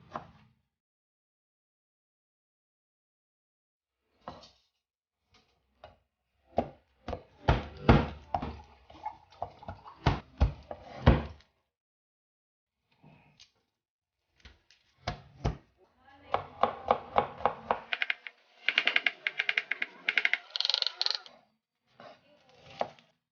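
Tomatoes being chopped on a cutting board with a knife, rapid close thuds in bursts separated by pauses, some runs quick and dense, with faint clinks in between.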